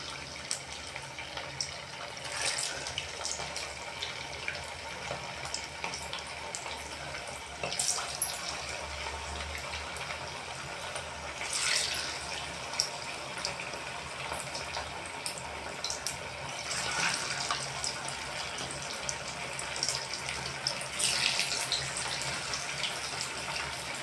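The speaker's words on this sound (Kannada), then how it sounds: "ಈಗ ರೆಡಿ ಮಾಡಿ ಇಟ್ಕೊಂಡಂಥ ಆಲೂ ಬಜಿನ ಇದ್ರೊಳಗೆ ಕರಿಯೋಣಂತ." Potato bajji fry in hot oil with a dense, even bubbling hiss that runs without a break and swells slightly now and then. The sound is moderate and close, with no speech.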